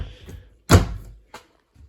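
A sliding door with a latch inside the bunkhouse of a 2019 Coleman 334BH camper trailer rolls and bumps shut with one solid thud, followed by a lighter knock, all close by and with no talking.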